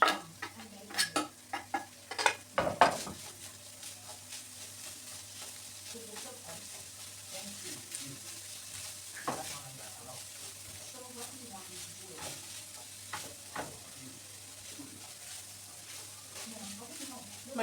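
Onions fry in a pan for samosa filling, giving a soft low sizzle under close stirring clatter and scraping, with sharper knocks near the start, while a voice talks quietly at times.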